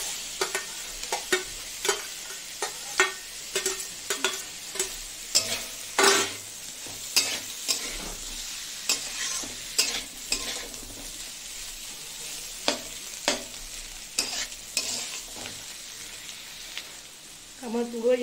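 Scrambled egg is stir-fried with fried chicken, onion and garlic for egg chicken chow mein, with a constant sizzle under repeated sharp spatula scrapes and taps against the pan in an uneven rhythm.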